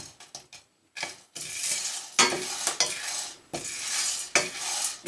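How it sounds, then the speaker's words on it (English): Dark corn kernels parch in a pan, crackling and popping in dense, loud bursts, with stirring and scraping against the pan in between. "you can see that some of them are just popping right out of the pan"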